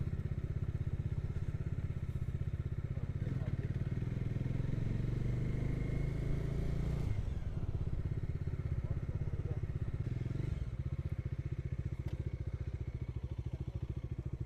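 Motorcycle engine droning steadily on the road up to Madugiri hills during a morning ride, loud and continuous with wind buffeting, briefly dipping around the midpoint before carrying on.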